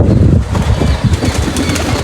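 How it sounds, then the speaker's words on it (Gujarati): Pigeons flap their wings loudly and close by as they fly out of a loft, a dense burst of overlapping wingbeats with soft flutters, heard alone with no talk. "અને હવે આ કબૂતર ધીમે ધીમે બહાર નીકળી જાય બધા"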